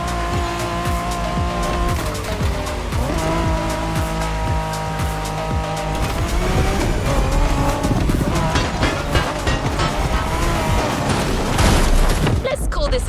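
Race cars in The Crew Motor Fest, racing game, play with continuous loud engine roar, rising and falling revs and screeching tire squeal, layered under music and game voices throughout.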